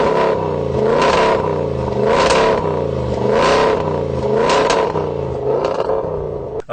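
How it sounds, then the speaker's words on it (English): A supercharged 340 hp petrol V6 in a 2014 Range Rover Sport, derived from the Jaguar F-Type engine, revs repeatedly in loud, close rising-and-falling sweeps, about five surges over several seconds with a clattering edge. "New petrol engine, which is derived from the one in the Jaguar F-Type"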